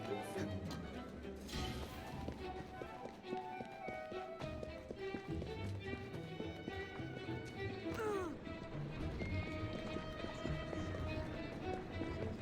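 Hooves of a horse gallop in a video game, a steady rapid clip-clop running throughout under continuous game sounds and background noise, with a brief sweeping effect partway through.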